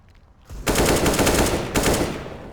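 Rapid automatic gunfire in the game CS:GO, with a loud, dense burst that runs almost two seconds, briefly dips, then resumes, heard close and with no talking.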